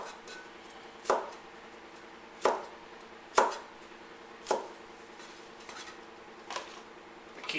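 A cleaver chopping broccoli on a cutting board for stir fry: a series of sharp, irregular knife strikes, about seven, some loud and crisp, others softer, with brief scraping between cuts.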